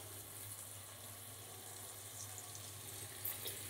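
Okra frying and being stirred in a pan gives off a steady, faint sizzling hiss with a low hum beneath it and no voices.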